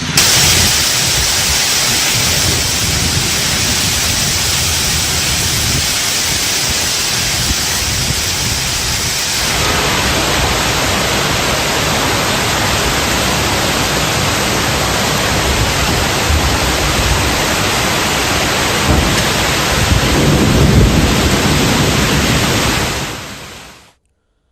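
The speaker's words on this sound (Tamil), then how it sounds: "அண்ணா நகர், அயனாவரம் பகுதிகளிலும் பலத்த காற்றுடன் மழை பெய்தது." Heavy rain driven by strong wind over Chennai's Anna Nagar and Ayanavaram areas makes a loud, unbroken roaring wash of noise that shifts in texture partway through and holds steady for over twenty seconds without voices.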